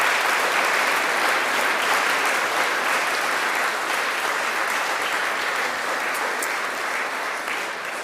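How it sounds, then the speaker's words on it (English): Sustained audience applause at the 2021 Australian of the Year Awards in Tasmania, a dense clapping from a large crowd that holds strong and eases slightly toward the end. "Let's give them another round of applause."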